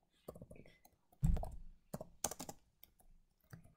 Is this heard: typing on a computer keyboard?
yes